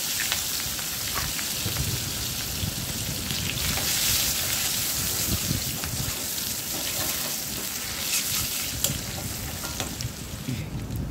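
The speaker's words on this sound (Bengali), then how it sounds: "পেঁয়াজ রসুন ভাজা ভাজা হয়ে গেছে।" Onion and garlic frying in oil left over from frying fish, giving a dense, continuous close-up sizzle with faint stirring clatter throughout and no speech.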